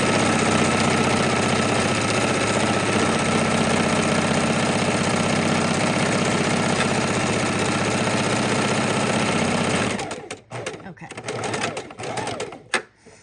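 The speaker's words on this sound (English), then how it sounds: "I think I'm going to opt to sew it down." A sewing machine hums steadily at close range while stitching raw-edge appliqué onto a Halloween quilt, running continuously for about ten seconds before stopping, followed by faint handling noises.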